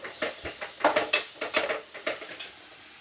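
A spoon scrapes and knocks against a cooking pot as a kappa and bone dish seasoned with ground turmeric is stirred, a string of quick, close clinks and scrapes with no voices.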